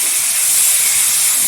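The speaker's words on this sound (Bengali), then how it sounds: "এখন এই তেলে দিয়ে দেবো ম্যারিনেট করা মাটন।" Yogurt-marinated mutton hits hot oil with a loud, close, sustained hiss of sizzling spatter, bright and unbroken for the whole short moment.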